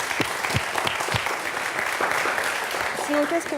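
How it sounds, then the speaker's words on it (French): An audience claps for performers during a live evening show, a dense patter of hands lasting several seconds with scattered sharper claps and a voice coming in near the end. "Vous pouvez les applaudir."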